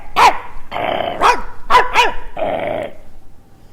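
A dog barks and growls in a quick series of about five loud, close barks, each with a rough growling edge, then the sound fades out.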